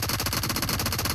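Rapid automatic gunfire in the PUBG Mobile battle royale game, a dense continuous burst of shots with no pauses, loud and close throughout.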